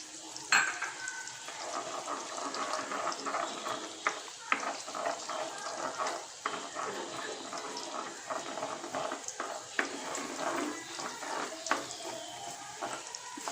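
Sausages sizzle steadily in a hot pan for a vegetable and sausage spaghetti while a spoon stirs and scrapes through them, with occasional sharp clinks over a constant frying hiss.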